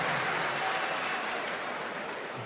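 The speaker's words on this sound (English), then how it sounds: "The crowd go mad." A darts crowd at the PDC German Darts Championship erupts in sustained loud cheering and applause, a dense wash of noise that holds steady and slowly eases off.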